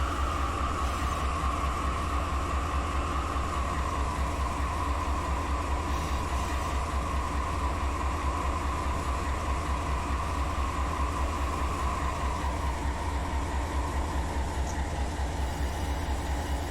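A heavy freight train backing up in Run 8 Train Simulator, a steady low engine drone with a sustained tonal hum, continuous and unchanging, close and even throughout with no talking.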